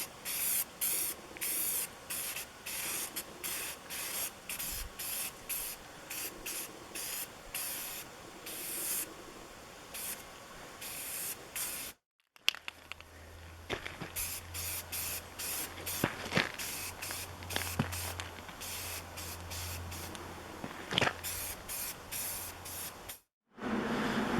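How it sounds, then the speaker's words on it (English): Aerosol spray paint hisses in repeated bursts outdoors while aluminum boat swim grid parts are coated, loud short blasts with brief pauses between them, a low rumble joining partway through. "Definitely want to spray paint these outside."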